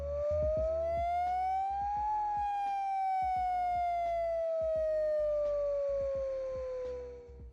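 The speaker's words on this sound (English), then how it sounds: "the new tone is the attack tone, which sounds like this." Hawaii outdoor warning siren sounding its attack tone, a loud wailing pitch that climbs for about two seconds and then slowly falls, continuous and close, with no talk.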